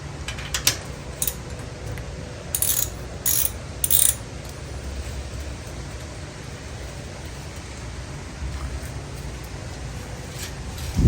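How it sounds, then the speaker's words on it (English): Ratchet wrench tightening the rear wheel axle bolt on a 26 inch beach cruiser bicycle, heard as a few short bursts of clicking near the start and middle over a steady background hiss. "And then we'll get the ratchet on it. Got to switch the ratchet. And then this just tightens down."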